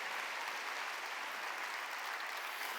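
Congregation at a Sunday church service clapping together, a steady dense burst of applause heard from within the hall, continuous and even, with no voices over it.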